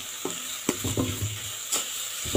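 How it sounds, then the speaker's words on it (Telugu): Sugar stirred into carrot halwa (gajar ka halwa) in a pan, with a gentle background sizzle broken by several distinct spoon scrapes and taps against the pan, close and moderately quiet, and no speech. "ఇప్పుడు చక్కెర అంతా కలిపేటట్టు బాగా కలుపుకోవాలి"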